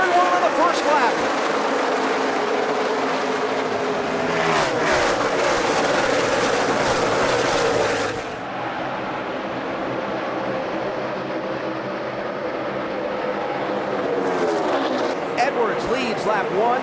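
NASCAR stock cars roar around the track at the start of the 2011 Ford 400, a loud sustained engine drone that dips and then rises again as the pack passes, under steady commentary.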